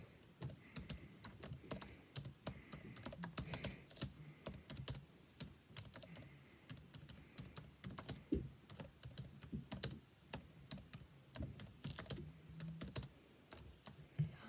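Rapid keystrokes during a Nitro Type typing race played with random objects instead of fingers, a dense stream of sharp clicks in uneven bursts with brief pauses, close and fairly quiet.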